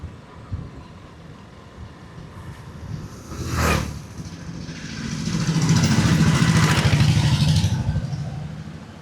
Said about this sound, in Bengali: তাই ভাবলাম যে বাইক নিয়ে একটু সকালবেলায় ঘুরে আসি